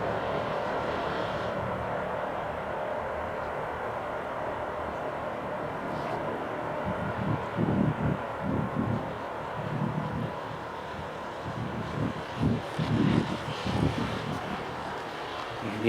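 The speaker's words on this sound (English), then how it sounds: "that's our Emirates flight landed here at Newcastle from Dubai" Emirates jet airliner from Dubai landing at Newcastle airport, a broad distant roar of engines and rushing air with gusty swells of wind buffeting the microphone.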